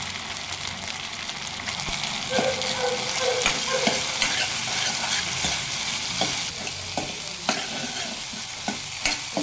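Beans and potatoes fry in a pan with curry leaves and green chilli, a steady close sizzle running throughout while a utensil scrapes and stirs in repeated clacks, with no voices.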